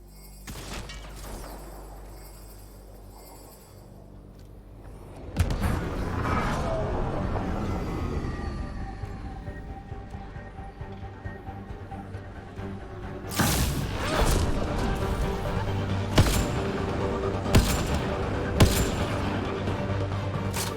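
Gunfire and thudding impacts from combat in Mass Effect: Andromeda, with a quieter stretch giving way to a dense, continuous barrage of shots and sharp bursts, fairly loud and close.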